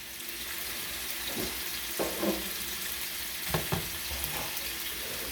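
Scallops sear in a non-stick skillet with a steady broadband sizzle, and a few soft clicks and scrapes of a utensil rise briefly above the constant frying hiss.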